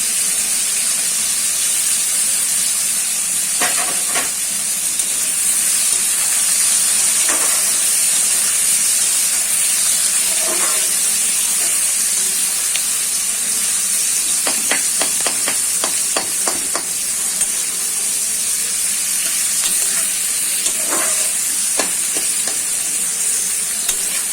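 Onion and vegetables for chow mein fry in a hot pan with a constant bright sizzle and hiss, broken by clusters of spatula scrapes and taps against the pan.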